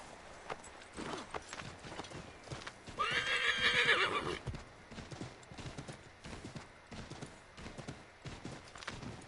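A horse in Assassin's Creed 3 gallops with steady clip-clopping hooves and lets out a loud, clear neigh partway through, close up amid game ambience.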